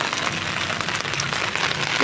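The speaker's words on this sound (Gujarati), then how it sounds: "એ વરસાદની મજા લઈએ" Monsoon rain on a farm in Gujarat, falling steadily as a dense continuous hiss of drops on surfaces, close and fairly loud, with no talk over it.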